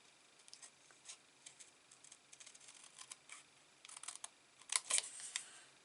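Faint, scattered snips and clicks of scissors cutting paper for a cigarette box craft come in irregular bursts and grow sharper and louder toward the end in a quiet room.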